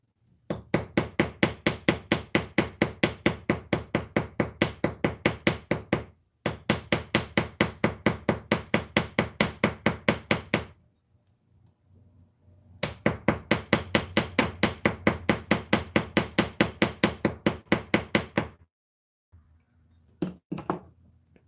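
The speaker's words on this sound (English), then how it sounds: "I'm going to try to get a little bit of more texturing with this ball peen hammer" A small ball peen hammer strikes metal on a craft desk in three long runs of rapid, evenly spaced taps, close and clear, separated by brief pauses, with a few scattered taps at the end.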